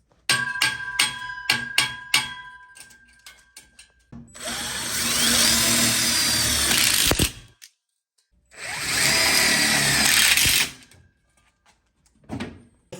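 A power drill driving screws into the frame of a BBQ island, with two loud sustained whirring runs of a couple of seconds each, near and alone, after a few knocks and clatters.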